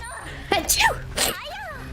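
A person sneezes twice in quick succession, two sharp close bursts about a second apart, with voiced sounds around them.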